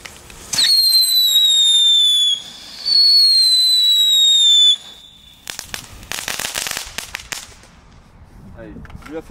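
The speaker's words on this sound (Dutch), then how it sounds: "eigenlijk zijn het eerder knalletjes dan ja, knetters" Cheap category 1 fireworks from Action go off nearby: two long shrill whistling rockets, then a burst of crackling and sharp bangs, loud and close, with faint voices afterward.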